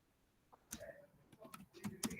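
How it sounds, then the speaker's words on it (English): Keys tapped on a computer keyboard in a scattered, irregular run of faint, close clicks against a quiet room. "The next question I am typing."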